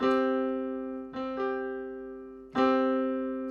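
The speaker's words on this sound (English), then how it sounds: "the perfect fifth interval sounds like this" Sustained harmonic tone played as a perfect fifth, an open, consonant interval, struck three times with a slow fade after each attack.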